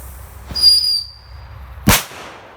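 UZI P1224 Kometa firecracker thrown outdoors: a short whistle followed by a single sharp, loud bang that trails off quickly, with no talking during it.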